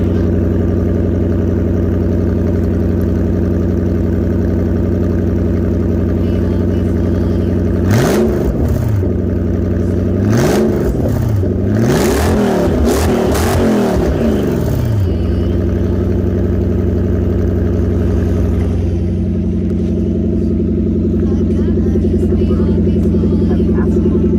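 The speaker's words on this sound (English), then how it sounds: "what 1UZ with the exhaust cut out at the cats, I'll do a little rev" A Toyota 1UZ V8 engine, exhaust cut out at the catalytic converters, idles with a deep burble, then revs sharply several times in quick bursts before settling back to a rough, loud idle.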